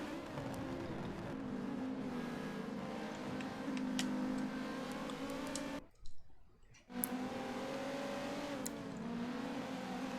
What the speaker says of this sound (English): Fight between the two Audi Quattros